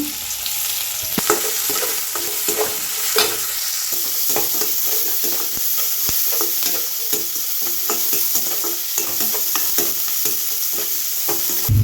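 Onions, curry leaves and mustard seeds fry with salt in a pan, a continuous bright sizzle broken by frequent scraping stirs and soft taps of a spoon against the pan, close and fairly loud.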